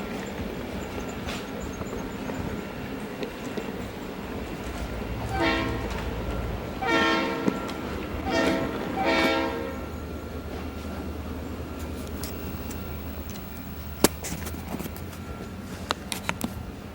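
Model railway train running at night, a steady low rumble with a few short horn blasts in the middle, then continuing quietly with occasional clicks.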